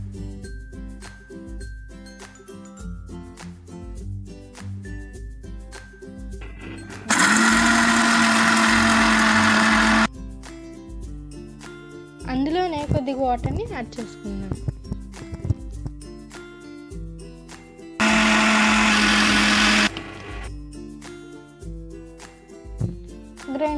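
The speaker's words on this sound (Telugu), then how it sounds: "ఇవన్నీ కలిపి మిక్సీ చేసేసుకుందాం." A kitchen mixer grinder whirs loudly through peanut chutney with roasted gram, cumin, salt and garlic in two steady bursts of a few seconds each, with calm talking and background music between the runs.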